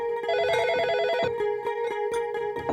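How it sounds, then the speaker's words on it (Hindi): A telephone rings with a rapid trilling bell, one burst followed by a steady electronic tone with regular pulses, close and fairly loud. "फोन तुम उठाओ।"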